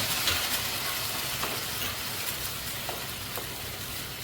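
Peanut paste drops into hot tempering in a pan, giving a continuous loud, crackling sizzle that stays steady throughout, with no talking.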